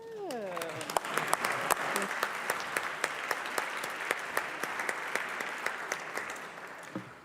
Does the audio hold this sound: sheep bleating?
no